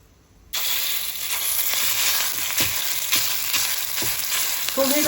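Garlic sizzles and crackles in hot oil for pork larb, a loud steady frying hiss that kicks in abruptly, with occasional stirring scrapes and pops.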